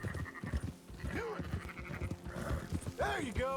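Sheep in the Western game Red Dead Redemption 2 give wavering bleats, one near the start and a louder pair at the end, as someone talks over them and hooves and ambient game noise continue underneath.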